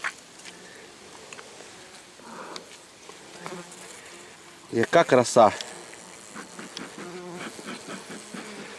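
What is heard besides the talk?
honeybees buzzing around hive logs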